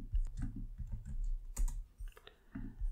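Keys clatter on an Apple MacBook keyboard in irregular short bursts of taps, close and fairly quiet, with brief pauses between runs of keystrokes and no talking.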